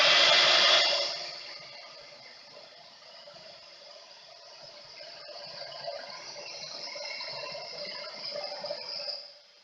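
A heat tool blows over embossing powder on a vellum doily to give a metallic finish: a close, breathy rush of hot air that is strongest at first, dips, then swells again before stopping.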